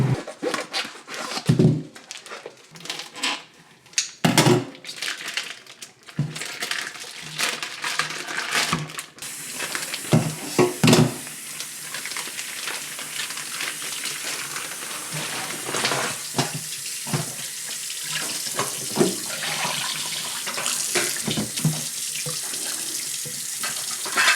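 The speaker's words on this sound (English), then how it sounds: "Found the baby bok choy. Ooh, they're dirty. I gotta scrub them." Baby bok choy is scrubbed and rinsed under a running kitchen tap, with steady splashing water, rubbing and crunching of leaves, and occasional knocks in the sink, close and continuous.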